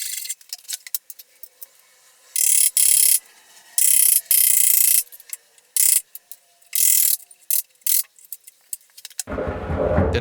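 A desk top being screwed onto its frame, heard as a series of loud, clipped bursts of a power driver spinning screws in, separated by short clicks and handling noise, ending in a heavier rumbling thud.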